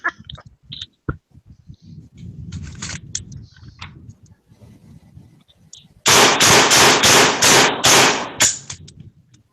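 Semi-automatic gun fired in a quick string of about eight sharp, loud shots at a range, following quieter handling noises.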